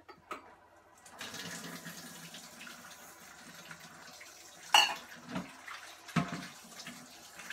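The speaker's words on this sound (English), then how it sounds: "So now it says to sieve the quinoa until the water runs clear." Water running from a tap into a sink as quinoa is rinsed in a metal sieve, moderately quiet and close, with a few sharp clatters of the sieve or dish.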